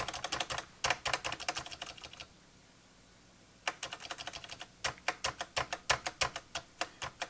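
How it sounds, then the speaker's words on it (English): Fingers type on the keyboard of a Canon TypeStar 4 thermal typewriter in quick, close, clicky bursts, with a short quiet pause partway before the rapid keystrokes resume. "I type and it goes into the buffer, and then when I press the return key, it should actually print"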